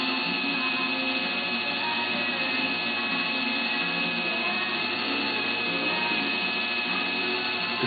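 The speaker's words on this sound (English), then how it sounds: "Now we're going to polish the axle itself." A steady whirring motor of a bench polishing setup buffs a 93SRG model axle with a dab of polishing compound, running continuously at an even level with no pauses or talk.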